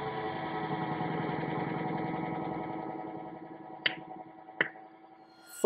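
A Bob and Brad C2 Mini massage gun runs at a higher setting with a steady, moderately loud motor buzz and rapid percussive rattle for several seconds, followed by a couple of sharp clicks as the setting changes.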